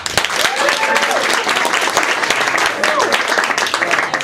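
Audience applause and cheering at a stand-up comedy show at The Stand, a dense wash of clapping filling the room with a few voices calling out over it.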